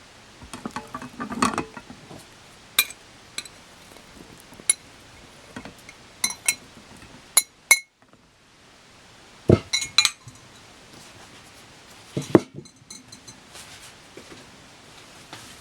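Almond butter is stirred into a pastillas mixture in a pot: a utensil clinks and scrapes against the pot in scattered, irregular bursts, separated by quiet gaps.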